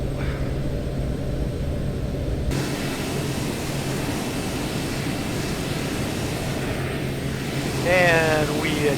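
A steady propeller engine drones at cruise throttle in a flight simulator, a constant near hum throughout with brief radio chatter near the end.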